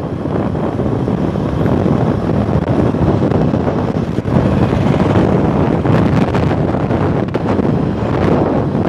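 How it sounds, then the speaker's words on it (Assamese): Strong wind roars continuously against the microphone while riding a motorbike, a heavy rushing blast with a low rumble beneath, without any talking. "বতাহটো খুব জোৰত মাৰি আছে"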